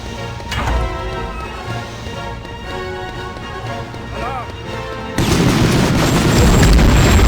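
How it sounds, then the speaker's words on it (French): Explosion in the Medal of Honor remake video game: a sustained roar of rumbling noise erupts about five seconds in, loud and broadband, following a stretch of busy game sound with scattered clattering and voices. "pour une explosion, c'en est une belle."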